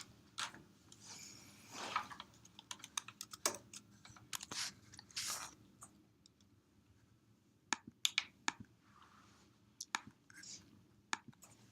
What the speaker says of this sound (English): So I'm just gonna type it to make it quicker.